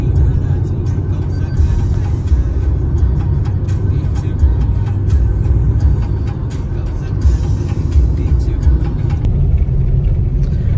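Car driving on a highway near Boisar, heard from inside: a steady, loud low road rumble and engine drone that runs unbroken throughout.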